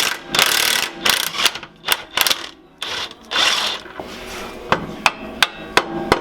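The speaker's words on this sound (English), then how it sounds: "next we're going to be using the 18mm socket and an 18mm wrench to get this bolt off" An 18mm socket on a ratchet, backed by an 18mm wrench, loosens a rear shock bolt on a Jeep Wrangler JK, with loud close bursts of rapid ratchet clicking followed by a run of single sharp metallic clicks.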